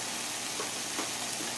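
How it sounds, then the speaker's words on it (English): Meat sauce for spaghetti squash simmers in a pan with a steady, faint sizzling hiss, broad and unbroken, with a few soft bubbling pops. "our meat sauce is simmering away"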